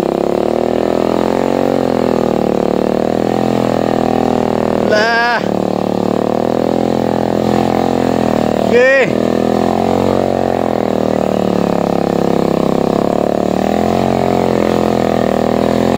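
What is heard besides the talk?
motorcycle engine revving on muddy road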